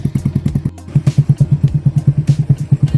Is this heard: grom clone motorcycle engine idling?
yes